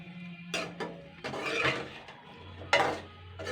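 Bengali rasbora fritters made from biuli (urad) lentils are stirred in syrup in a pot, giving a few brief clinks and scrapes of a utensil against the vessel, fairly close and quiet, with no talking.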